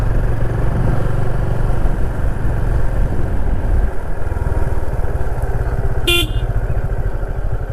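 A motorcycle rides a mountain road in Sikkim, its engine droning loud and steady throughout, with a brief horn honk near the end.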